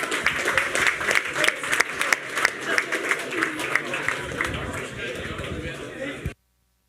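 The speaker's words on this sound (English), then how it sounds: "A round of applause for you." Audience applause fills an awards night, a dense steady round of clapping from a crowd that carries on for several seconds before cutting off abruptly.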